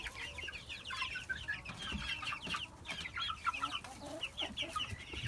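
A mixed-age flock of chickens clucks softly and continuously nearby, with small chirps and light pecking sounds scattered throughout.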